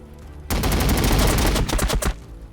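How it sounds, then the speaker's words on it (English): Missiles firing in Warhammer 40,000: Battlesector, a loud sudden burst of rapid rattling launches and blasts lasting about one and a half seconds, then cutting back to a quiet background. "Okay, you fire missiles at them."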